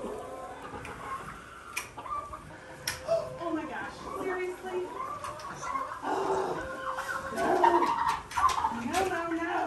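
Young chicks peep and chirp in a barnyard, with scattered calls, clucks and a few ticking knocks close by, and people talking through the sound.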